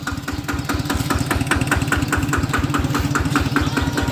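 A tractor's diesel engine idles close by with a steady, rapid low chugging rhythm that holds even throughout.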